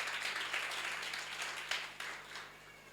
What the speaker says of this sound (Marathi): सगळे टाळ्या वाजवा त्यासाठी